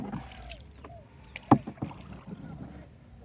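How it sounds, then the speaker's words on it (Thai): A rowboat is paddled on the flooded Yom River, with soft splashing paddle strokes and hull knocks near the microphone, one sharp knock standing out midway, amid light wind. "ผมพายเรือเล่นอยู่ แถวๆหน้าบ้าน"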